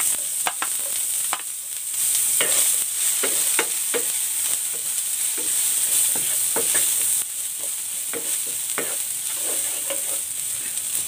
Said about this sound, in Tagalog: Magigisa na ako ng bawang. At ng sibuyas.